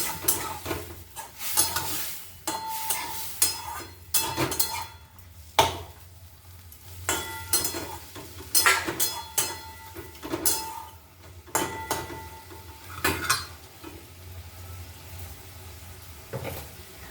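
A spatula scrapes and knocks through shrimp and pumpkin greens in a pan, repeated irregular stirring strokes over a low sizzle, close and busy, with no talking.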